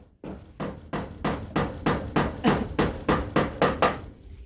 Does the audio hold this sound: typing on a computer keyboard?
no